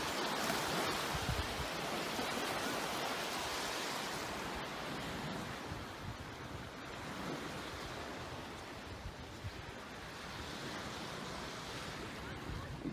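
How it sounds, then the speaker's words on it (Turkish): Sea waves wash continuously onto a beach in Mersin, a steady, loud broadband roar of surf with wind noise, heard alone without talk. "Dalga sesler arasında harika gidiyor."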